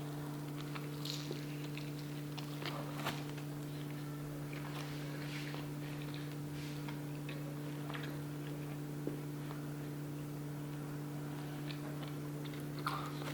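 Someone chews a slice of white pizza topped with mac n' cheese, producing soft, irregular crunching and biting sounds up close over a steady electrical hum.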